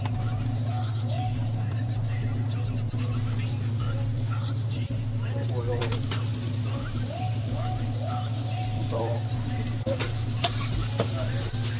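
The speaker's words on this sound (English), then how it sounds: "We got some portobello baby mushrooms. We're going to put them on our flat top with some sliced onion." Baby portobello mushrooms and sliced onion sizzle on a flat-top griddle as a steady hiss, with scraping and clinking now and then and a low steady hum running under it throughout.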